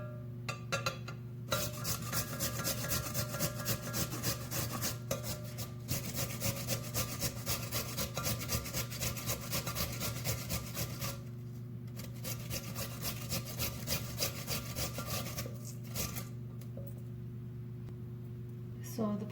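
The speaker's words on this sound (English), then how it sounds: "I'm using the bigger part of the grater for the potatoes" Raw potatoes are rubbed on the coarse side of a box grater, making a continuous rasping scrape with rhythmic strokes, close but fairly quiet, with brief pauses and a steady background hum.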